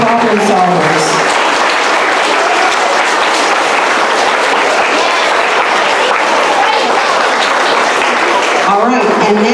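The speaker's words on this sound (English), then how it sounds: "big smiles and a big round of applause" Students and audience at a school assembly burst into loud, dense applause, a continuous roar of clapping with some voices mixed in, tapering slightly at the end.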